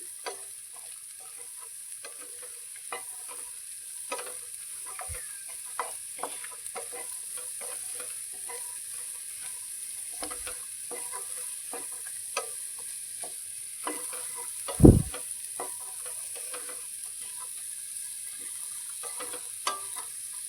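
Boiled pigeon peas and peanuts frying in oil in a pan, a faint steady sizzle with sparse taps and scrapes of a spoon stirring and one louder knock, quiet and close.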